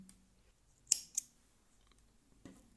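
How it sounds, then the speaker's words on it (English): Scissors snip through knitting yarn, two quick crisp cuts close together near the start followed by a fainter snip later, quiet and close with no talking. "Cut the yarn with long tail"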